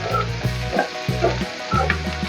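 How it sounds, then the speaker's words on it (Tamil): Ginger sizzles and fries in a pan for a South Indian egg and lentil curry, a steady crackling hiss broken by a few stirring scrapes, close and alone. "இஞ்சி போடும்போது கொஞ்சமா வதக்கிக்கிட்டா போதும்"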